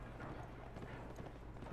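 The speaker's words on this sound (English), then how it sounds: "Oh, there's a horse." Faint, quick clip-clop of horse hooves running alongside a train in the prison-escape video game The Escapists 2, a soft rhythmic patter under a low steady background hum, with no talking.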